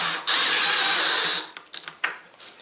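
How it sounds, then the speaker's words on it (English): A power drill with a 7/16 socket on a long extension drives lag screws while an outfeed table is built: a steady, close, high-pitched whir for about a second, then short stuttering bursts as the screw seats. "A 7/16 socket and a very long extension are the easiest way I've found to drive"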